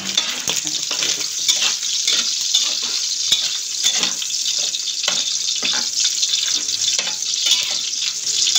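Pork fat fries in a pan, a bright, continuous close-up sizzle with repeated scraping stirs in an irregular rhythm and no voices.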